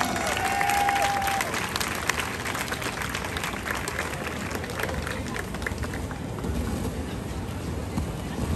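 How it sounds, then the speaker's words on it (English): Sustained applause from a festival crowd for an Assyrian Empire parade, a dense, steady clatter of clapping that stays loud and continuous throughout without a break. "A round of applause for our Assyrian Empire Parade"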